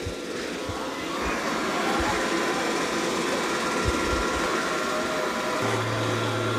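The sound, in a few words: Dreame robot vacuum mopping and vacuuming floor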